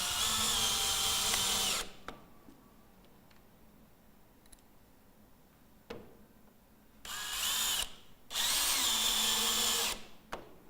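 A cordless power drill drives screws through metal brackets into the timber frame of a roof window being installed on a plain tile roof: two-second whirring bursts near and loud, separated by quiet pauses with light clicks and handling.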